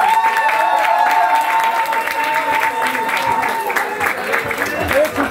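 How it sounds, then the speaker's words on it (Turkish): Audience applause after a presentation at a school, a steady wash of clapping with a faint sustained tone running underneath and some crowd murmur. "Alkışlayalım hocam."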